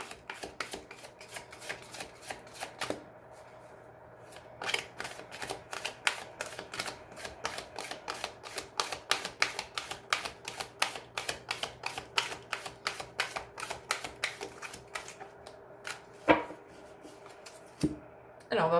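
Béline divination cards being shuffled for a tarot-style reading, a long run of rapid crisp flicking and riffling clicks, close and steady with brief pauses, and some quiet talk alongside.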